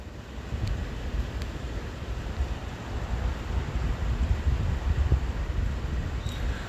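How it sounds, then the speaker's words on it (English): Steady cold wind blowing outdoors and buffeting the microphone, a continuous low roaring rumble with gusts that swell slightly louder toward the end, no voices. "It's cold, windy"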